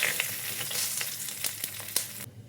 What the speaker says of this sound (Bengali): ওই কড়াইয়ে শুকনো জিরে তেজপাতা ফোড়ন দিচ্ছি।